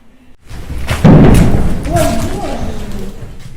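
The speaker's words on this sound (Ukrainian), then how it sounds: "Під час зйомки чутно вибухи." A heavy low thud of an explosion booms out after a brief lull, followed by rumbling and a murmur of voices, during the Russian invasion in the Derhachi area of Ukraine.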